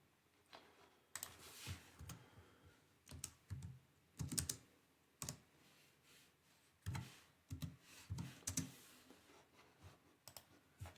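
Keys tapped on a computer keyboard to enter numbers into an on-screen calculator, irregular bursts of close, crisp clicks with short pauses between groups.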